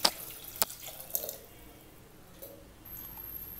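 Water is poured into a pressure cooker holding onions, tomatoes, green chillies and garlic for tiffin sambar, giving a few splashy bursts near the start, then a faint trickle that settles into quiet.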